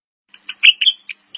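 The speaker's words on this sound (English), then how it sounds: "Wagtail." Short, sharp high chirps from a wagtail, a handful of quick notes in an uneven burst, close and clear in silence.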